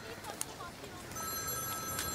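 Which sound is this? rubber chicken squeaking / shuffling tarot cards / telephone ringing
telephone ringing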